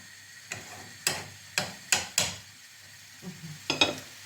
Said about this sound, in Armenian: թող տապակվի